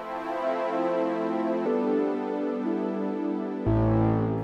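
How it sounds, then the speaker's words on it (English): A soft, sustained synth pad swells through slow chord changes, smooth and airy, with a deeper chord entering near the end. "a pad, which is used to fill up the atmosphere,"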